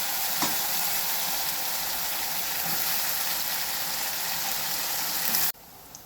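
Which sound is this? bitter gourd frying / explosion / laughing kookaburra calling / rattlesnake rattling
bitter gourd frying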